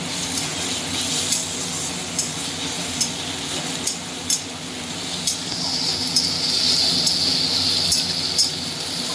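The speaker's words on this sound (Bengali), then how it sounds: "হ্যাঁ, টমেটোটা আর একটু ভাজা, কাঁচা লঙ্কাটা, মানে চেরা কাঁচা লঙ্কা" Tomato and slit green chillies fry in a pan for a dal with eggs and dried fenugreek. A steady sizzle runs throughout, with a few soft stirring scrapes scattered through it and no talk.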